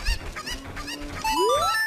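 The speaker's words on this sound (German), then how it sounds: "Diese Hühner sind hier überall verteilt" Chickens in the game Zelda Ocarina of Time, several short clucks followed by a rising, drawn-out squawk, close and clear without talk.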